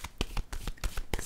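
Tarot cards being shuffled by hand in a run of quick, crisp riffling bursts about every 0.15 seconds, close and fairly quiet, with no talking.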